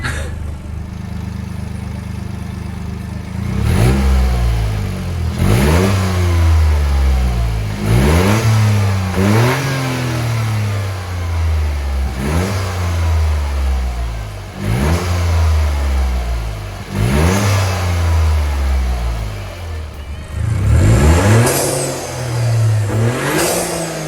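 A Toyota GR Yaris engine fitted with an MST performance intake revs repeatedly, rising and falling in pitch through several loud throaty pulls with a deep, resonant intake roar.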